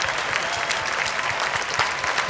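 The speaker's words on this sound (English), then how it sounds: "please stand up so we can give you a big round of applause" A crowd at a belly flop contest applauds steadily for serving veterans, a dense, continuous wash of clapping from many hands at close range with no voices over it.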